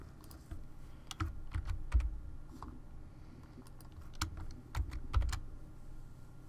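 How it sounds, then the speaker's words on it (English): Keys tapped on a computer keyboard while letter grades are entered into text boxes on a grading screen, a close, quiet run of irregular clicks with a few heavier keystrokes clustered in bursts. "carefully type a letter grade within each student's Final Grade text box"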